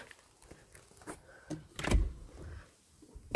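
Entrance door of an apartment building being opened, a brief loud clunk and rattle of the latch and door mid-clip amid quieter handling knocks, no talking.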